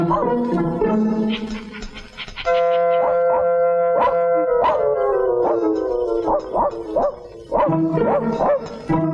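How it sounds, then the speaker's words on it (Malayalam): A dog barks and howls again and again, loud and close, with drawn-out whining tones between sharper yaps. "പട്ടി കിടന്ന് ബഹളം വെക്കണ കണ്ട?"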